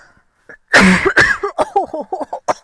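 A few harsh, loud coughs close by, followed by a quick run of shorter throat sounds and coughing bursts.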